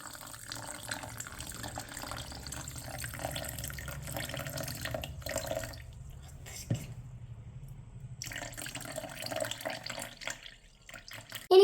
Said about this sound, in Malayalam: നമ്മളെടുത്ത 1 ഗ്ലാസ് പാല് മുഴുവനായിട്ട് ഒഴിച്ചു കൊടുക്കാം